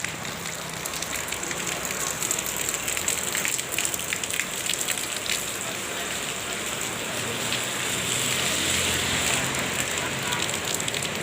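Steady heavy rain falls on a surface outdoors while buying food at a street stall at the start of the new year, a dense continuous hiss with close patters, and faint voices talk underneath.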